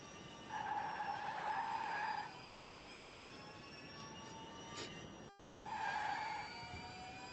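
Tyres squealing in a drift in the RaceClub racing video game, two distinct high screeching passages separated by a steadier engine whine, fairly quiet overall.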